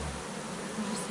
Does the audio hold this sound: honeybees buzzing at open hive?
yes